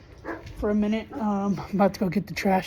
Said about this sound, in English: Dogs are barking. If you can hear them in the background